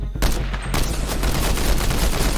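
Rapid, continuous automatic gunfire from a weapon in a video game rattles loudly and densely throughout, a sustained fusillade with no pauses.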